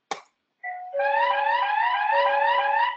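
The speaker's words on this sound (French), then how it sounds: "J'en ai une qui fait ding-dong et l'autre qui joue les alarmes." A Mobotix security camera sounds a short ding-dong chime and a second unit plays an alarm tone, beginning with a brief click, then a warbling electronic siren-like alarm that holds steadily and loudly with no talk.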